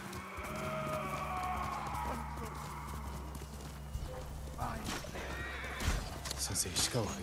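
A horse in the Ghost of Tsushima video game clip-clops and whinnies, with hooves and movement sounds over a steady game background and a louder burst near the end.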